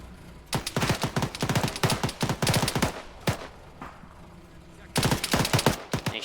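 Rapid bursts of automatic gunfire in the Taviana survival game, loud, clustered volleys with a brief lull before another burst near the end.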